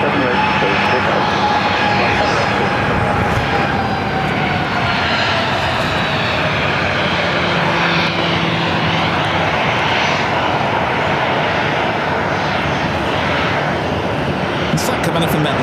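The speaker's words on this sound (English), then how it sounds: "flight 3401 at 737-800, pulling into gate D5" A Boeing 737-800 jet airliner taxiing to a gate at Phoenix airport gives a loud, steady engine roar and whine that fills the scene without a break.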